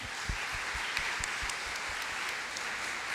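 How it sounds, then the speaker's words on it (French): Audience at a conference debate on isolation of elderly people applauding, a continuous even wash of clapping at moderate distance. "On peut applaudir l'initiative, s'il vous plaît."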